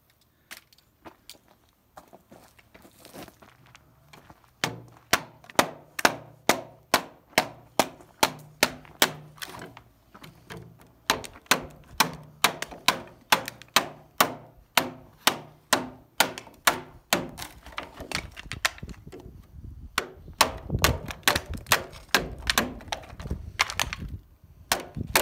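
Chunks of cut wood knocked out of an angled timber-frame tenon, a long series of sharp, evenly paced wooden whacks and thwacks, close and loud, speeding up toward the end with no talk.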